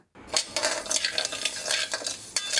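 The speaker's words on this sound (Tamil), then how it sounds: "பச்சரிசி இரநூறு கிராமு அதை வறுத்துக்கிறோங்க" Raw rice being dry-roasted in a pan, a close scraping and rattling of grains as they are stirred in quick, uneven strokes, beginning abruptly after a brief silence and continuing steadily to the end.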